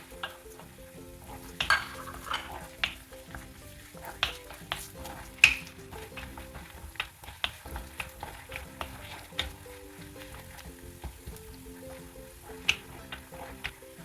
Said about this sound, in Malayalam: ഇഞ്ചി വെളുത്തുള്ളിയൊക്കെ ഒരുവിധം നന്നായിട്ട് തന്നെ മൂത്തിട്ടുണ്ട്